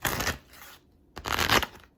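Tarot cards are shuffled by hand in two short, crisp bursts of riffling separated by a brief pause, close and fairly quiet with no talking.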